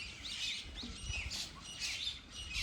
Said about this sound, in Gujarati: જો કાબર બેને પાણી પીવા આવ્યા હો પાછો